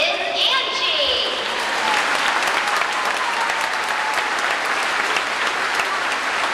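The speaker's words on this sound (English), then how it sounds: "we'd like to bring Angie up with a terrific round of applause" An audience gives Angie a dense, steady round of applause that holds loud and even throughout, with a little crowd noise mixed in.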